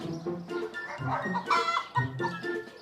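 Rapid clucking from a chicken, busy and fairly close, with short squawky bursts layered over a steady flurry of farmyard fowl sounds.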